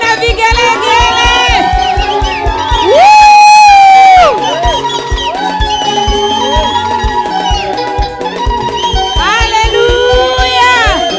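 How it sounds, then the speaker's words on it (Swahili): A congregation at a monthly prayer service cheers loudly, with high wavering ululation cutting through shouts and whoops; the crowd noise stays dense and close throughout, swelling into sustained trills at moments. "wapi shangwe na vigelegele"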